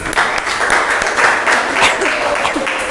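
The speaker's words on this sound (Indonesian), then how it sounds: "Tepuk tangan buat Hans." A class applauds Hans in a classroom, with a steady, dense wash of clapping from many hands at moderate distance that lasts a few seconds without a break.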